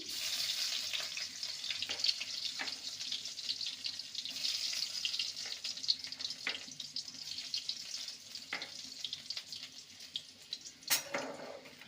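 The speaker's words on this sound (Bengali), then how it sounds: "রসুনটাকে একটু ভেজে নেব" Chopped garlic frying in mustard oil in a kadai, a soft steady crackling sizzle with occasional scraping stir strokes and clicks, no voices.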